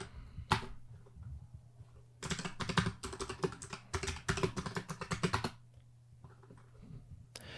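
Fingers type on a computer keyboard in a quiet room: a few isolated key clicks, then a dense, rapid run of clacking keystrokes for a few seconds before it thins back to single taps.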